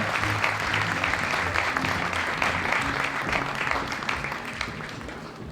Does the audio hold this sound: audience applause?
yes